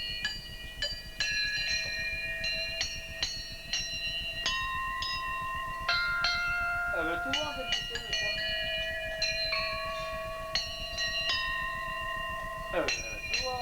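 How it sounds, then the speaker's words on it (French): Church bells at Notre-Dame de La Goutte, rung by pulling the rope, give a long run of clear, bright ringing strikes that overlap and fade into one another, with some brief talk in between. "allez, tire le cloche par le bout"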